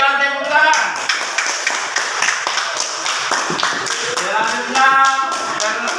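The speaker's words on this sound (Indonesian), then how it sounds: "Oke, berikan tepuk tangan." A school class claps hands together during a lesson on waste and sustainable living: a loud, close burst of rapid, uneven claps from many hands, with voices talking over it.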